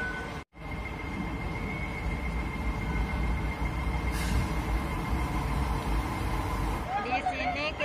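A small tourist train in Hong Kong rumbles along in a steady low drone heard from on board, with a brief drop near the start and voices talking faintly toward the end.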